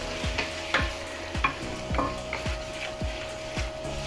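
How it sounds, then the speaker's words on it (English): Aloo gobi with chopped chillies gets stirred in a hot sizzling pan, a spoon scraping and knocking the metal in a regular rhythm roughly every half second over a constant frying hiss. "Alright, give this a nice mix."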